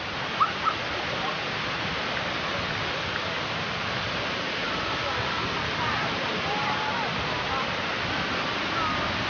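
Kuang Si waterfall roars as a dense, unbroken rush of falling water, loud and constant from start to finish, with a couple of faint brief exclamations near the beginning.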